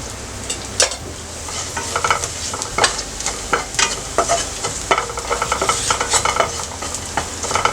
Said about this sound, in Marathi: 1 चमचा मिरची पावडर, पाव चमचा हळद, परतून घेऊया।